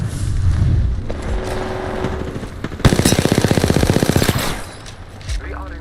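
Automatic gunfire rattles in the battle royale shooter Apex Legends, a long rapid burst of evenly spaced shots after a few scattered impacts, fairly loud with game noise around it.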